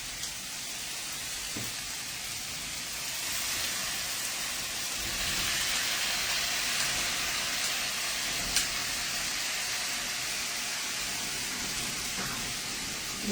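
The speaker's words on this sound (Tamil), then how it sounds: "இந்த சமைக்கிற சத்தமும் வருது இல்லை" Steady sizzling and hissing from bitter gourd tamarind curry cooking fills the clip, a soft continuous crackle with a few faint clicks, no talking.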